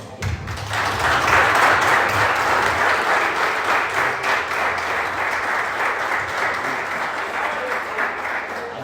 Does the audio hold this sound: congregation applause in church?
yes